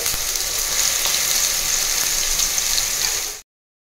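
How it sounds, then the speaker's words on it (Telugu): Ground bitter gourd fries in a pan with a loud, steady, close sizzle for about three and a half seconds, with light stirring scrapes. Then it cuts to silence. "ఇదేంటంటే పచ్చివాసన పోయేంత వరకు ఫ్రై చేసుకోవాలి"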